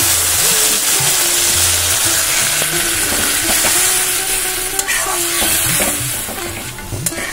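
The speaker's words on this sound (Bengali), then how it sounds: "খুব ভালো করে দেখো আমি মশলা কষিয়ে নেব" Spices sizzle and fry steadily in hot oil for ghugni, with a loud, continuous hiss broken by repeated scraping and clinking of a spoon stirring the pan.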